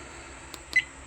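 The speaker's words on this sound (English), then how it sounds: "Beep sound. Leave it on." An Akeeyo 998GX motorcycle dashcam gives a single short, faint electronic beep, preceded by two soft clicks, in an otherwise quiet room.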